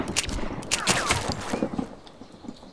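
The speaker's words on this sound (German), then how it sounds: "Ich höre es, wie es schießt." Gunfire in the survival video game DayZ: a rapid run of sharp shots rattling off in bursts over the first second or so, then scattered fainter pops under steady game ambience.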